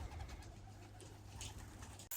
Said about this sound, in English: But there's pigeons everywhere.